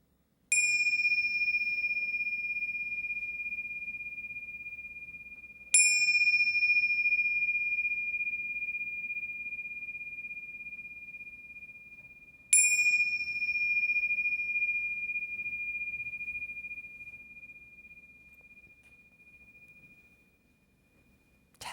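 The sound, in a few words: meditation bell struck three times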